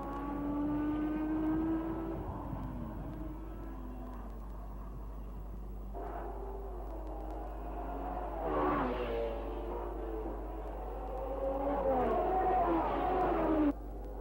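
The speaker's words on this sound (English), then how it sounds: "Bandini in the flat 12 Ferrari had been pushed down to 5th by Surtees and Gurney." 1960s Formula One race cars, including a BRM and a flat-12 Ferrari, drone past on track with rising and falling engine whine, several cars heard at moderate distance over steady background noise.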